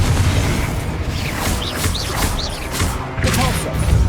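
A Confringo blasting spell erupts in Hogwarts Legacy, booming and crashing amid loud, dense game noise, with bird-like chirps and further impacts scattered through the busy four seconds.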